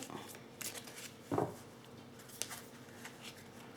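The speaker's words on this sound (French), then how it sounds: "je vais tirer encore 4 cartes pour en savoir plus" Tarot cards are shuffled and drawn by hand, a soft papery riffle with one louder burst of flicking cards, then light taps and slides as single cards are picked, close and quiet.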